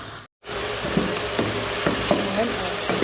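Potatoes frying in a pot as the base of a creamy potato soup, a dense close sizzle after a brief silent gap, with periodic stirring scrapes cutting through.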